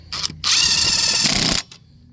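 A Ridgid 1/2 inch impact wrench hammers on the lug nuts of a one-ton Ford F350 truck: a short burst, a pause, then a loud sustained run of rapid impacts for about a second, close up, with no talking.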